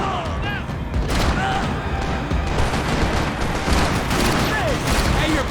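Gunfire in Max Payne 3, a dense fusillade of overlapping shots crackling continuously in a loud, chaotic firefight, with voices shouting under the shooting.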